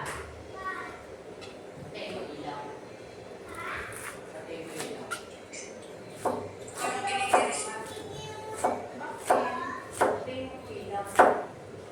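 A knife slices jackfruit into small pieces on a board, with soft, irregular cuts and taps that grow sharper and more frequent toward the end, while a voice talks quietly in the background.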